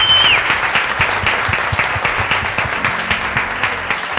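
Warm audience applause after a live reading event, close and fairly loud, a steady patter of many hands clapping with some individual claps standing out, fading slightly toward the end.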